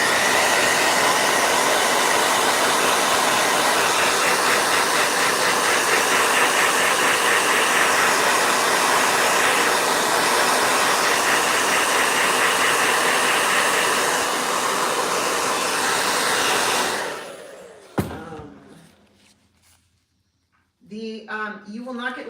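A blow dryer runs as a loud, steady whirring roar for about seventeen seconds, then cuts off abruptly and leaves near silence with brief talking afterward.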